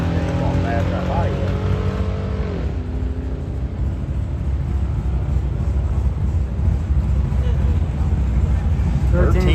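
Race car at a drag strip, engine note falling as it brakes after a pass, then a steady low roar from the track under people talking.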